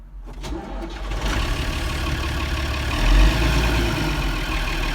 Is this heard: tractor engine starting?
yes